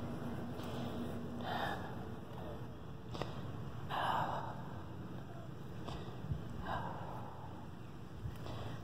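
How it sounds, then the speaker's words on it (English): Slow, heavy breaths of a person with COPD on oxygen near the microphone, rising and falling every couple of seconds over a steady outdoor background hiss. "Sorry for my heavy breathing."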